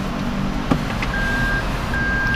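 Reversing beeps from a Toyota Raize after it is shifted into reverse, a steady tone sounding briefly, pausing, then resuming over the low hum of the idling car, with no talk.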